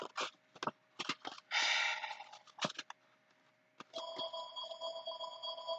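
Mobile phone ringing with a sustained electronic ring tone that starts after a pause, preceded by scattered clicks and rustling close by in a quiet room.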